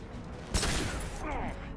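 A shotgun blast in Mass Effect 2 combat hits sharply midway, a loud close boom with a ringing tail, then fainter mechanical clatter follows over low background rumble.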